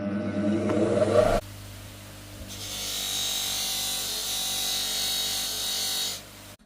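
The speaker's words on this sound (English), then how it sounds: "we'll use a finer compound on that wheel there. We slowly remove all those marks" A polishing wheel loaded with finer compound buffs a copper piece, giving a steady whirring rub that shifts in tone partway through, then spins down at the end.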